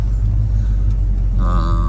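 A 1970 Buick GS 455 Stage 1 tribute convertible pulls out of a driveway while accelerating. A loud, deep engine rumble runs throughout, and its note rises and grows more tonal near the end.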